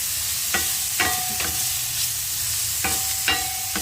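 Onions sizzle steadily as they fry in a pan for Ilocano pakbet. A utensil scrapes and stirs through them several times in short strokes.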